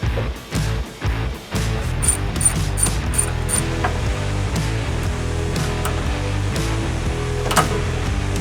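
A ratchet torques down nuts on the front landing gear of an abandoned airplane being rebuilt. Its clicking is steady and close, running through the whole stretch with brief pauses early on and some light metallic taps between strokes.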